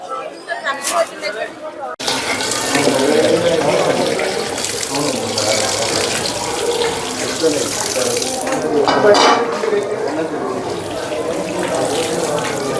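Tap water runs steadily at a high school in Vadapalem, a continuous splashing flow with people chattering and talking over it nearby.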